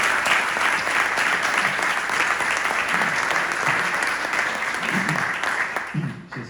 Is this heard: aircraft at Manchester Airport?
no